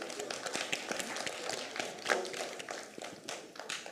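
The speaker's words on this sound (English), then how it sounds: "Let's applaud the 2 teams." A small audience at a Bible quiz applauds two teams, giving steady scattered claps that sound fairly close and last throughout.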